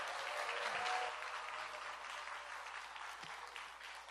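A church congregation applauds to welcome a pastor, a dense patter of many hands clapping that peaks early and then tapers off slightly, heard indoors at moderate distance.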